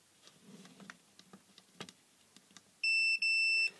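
Multimeter continuity test on a generic 9W T8 LED strip light: two sustained high electronic beeps near the end, split by a short gap, preceded by faint tapping and handling sounds.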